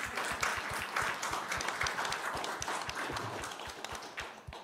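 Audience at an open data panel session clapping, a dense patter of many hands applauding steadily for several seconds, fairly faint and slightly distant.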